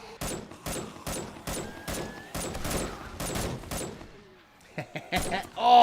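Rapid bursts of gunfire ring out in 7 Days to Die as zombies are shot down, a dense run of loud, evenly spaced volleys followed by a quieter stretch with scattered hits and game noises near the end.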